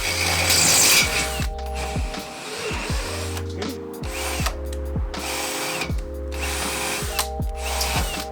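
A power drill widens a hole for a lock installation in repeated short bursts with pauses between, close and buzzing, some bursts straining as the bit bites.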